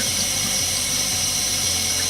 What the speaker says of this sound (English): So we got the water on now, and we're going to test for leaks.